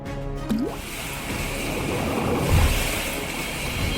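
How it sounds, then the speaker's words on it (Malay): A Ladybug bath bomb is thrown into bathtub water, landing with a single close plop and splash partway through, over a steady hissing watery background. "saya akan lemparkan bom mandi Ladybug"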